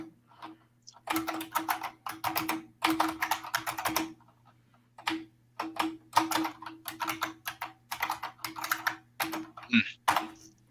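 Bursts of clicky computer keyboard typing come in uneven runs with short pauses between them, close and fairly quiet.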